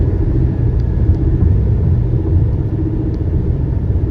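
A 2009 Volkswagen Jetta SE Sport with a five-speed manual cruises in fourth gear at around 80, its engine giving a steady, loud low rumble mixed with road noise from inside the cabin throughout, no voices.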